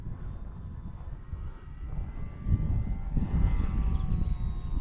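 A HobbyZone AeroScout S 2 RC airplane drones overhead at a park while coming in to land, its small electric motor whining steadily at moderate distance over rumbling wind noise.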